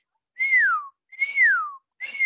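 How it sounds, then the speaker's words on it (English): A person whistles three clear, loud, falling notes up close, each a smooth downward glide separated by short pauses, the last one cut off. "Can you whistle with me?"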